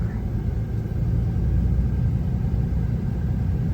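Low, steady diesel exhaust drone from a high-mileage Dodge Ram with the 6.7 Cummins engine, heard from inside the quiet cab as a constant muted rumble with no other sounds over it.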